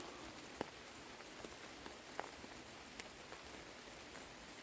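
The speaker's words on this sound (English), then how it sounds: "it's not pouring down rain, it's a steady rain" Steady, even rain hisses across the whole stretch, with a few louder drops pattering nearby; no voices, just the constant wash of rainfall.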